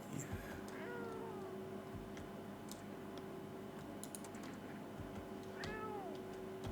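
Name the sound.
cat meowing in a video game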